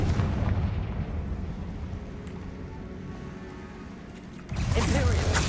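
Confringo blasting spell exploding in a Harry Potter video game: a loud, rumbling rush of fiery noise that eases off, then a sharp, heavy blast near the end.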